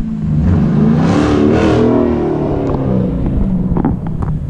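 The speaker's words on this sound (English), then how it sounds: "it's a 68 Firebird Pro Touring Edition. It's got an LS7 in it with a T56 trans" A 1968 Firebird Pro Touring with an LS7 V8 and T56 manual transmission revs loudly up close, the engine note swelling and holding before easing off, with some wind buffeting.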